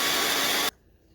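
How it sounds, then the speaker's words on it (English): A blow dryer roars steadily at close range, drying paint on a craft piece, a loud broadband rush, then cuts off abruptly, leaving near silence. "we're going to hit that with the blow dryer"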